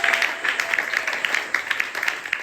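A church congregation claps in praise, a dense run of quick hand claps throughout, moderately loud and without talk.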